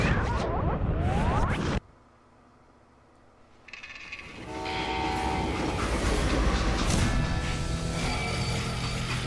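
A freight train runs in the Western video game Call of Juarez Gunslinger: loud rumbling and rattling, briefly cut to near silence, then swelling back into a steady heavy roar of clanking wagons and metallic squeals.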